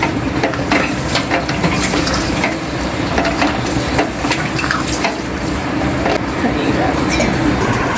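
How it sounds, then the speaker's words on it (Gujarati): A peanut and coconut sweet mixture is stirred in a pan with ghee, a steady close scraping and soft sizzling that runs the whole time under continuous talk. "જે આપણે ઘી રાખ્યું છે એ ઘીને આપણે એમાં એડ કરવાનું છે અને તેને આપણે બે મિનિટ માટે મિક્સ કરવાનું છે"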